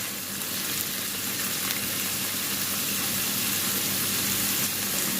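Garlic sizzling in a hot pan, later joined by green and red peppers, a dense continuous frying hiss that stays steady and loud close by, with no talk over it.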